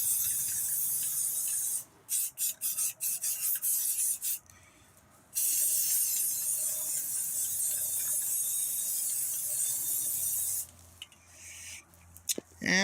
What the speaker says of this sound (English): give it a little bit of a heavier spritz there